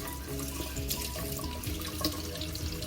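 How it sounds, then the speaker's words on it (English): Water splashing over an iPhone 12 sealed in a Redpepper waterproof case, a steady close rush of running, spattering water filling the short stretch without pause. "I'm just splashing water all over the phone"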